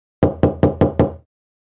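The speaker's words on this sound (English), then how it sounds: "Suddenly there is a knock at the door." Five sharp knocks on a door in a steady, evenly spaced rhythm, loud and close, with no voices and silence after.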